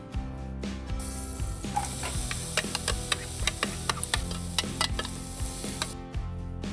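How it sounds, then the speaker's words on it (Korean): Onion slices, cut along the grain, frying in about 20 g of butter in a pan give a steady close sizzle broken by repeated sharp clicks and scrapes of stirring. "양파가 노릇노릇해져서 달달한 풍미가 올라올 때까지 볶아주겠습니다"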